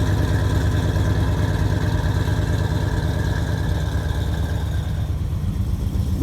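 A car engine idles with its exhaust cutout closed, giving a steady, loud, low rumble with a slight lope that continues unchanged.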